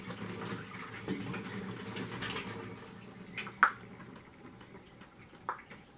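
Warm water trickles through a funnel into a flintlock longrifle barrel during cleaning, a faint, close, uneven pouring with a few sharper drips and knocks toward the end, with no talk.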